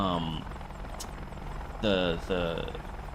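Steady rotor and engine drone of an Apache AH-64D attack helicopter in the flight combat game DCS World, heard close and continuous beneath voices talking over it.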